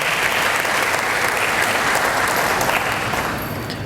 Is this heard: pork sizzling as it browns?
no